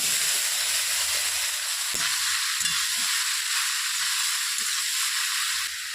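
Sliced bottle gourd hits hot oil seasoned with five-spice, dried red chillies and bay leaves. A strong, steady sizzling hiss runs throughout, with a few soft knocks of stirring, then stops abruptly near the end.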